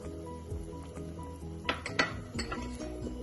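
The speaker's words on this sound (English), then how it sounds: "And then I'll give it a stir again" Ghana egg stew in a pot being stirred after nutmeg, black pepper and curry powder go in, soft scraping with a few distinct metallic clinks of a spoon against the pot, quiet and close, no voices.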